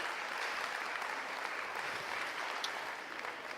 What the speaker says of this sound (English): One more round of applause for the amazing Alcia Vespers.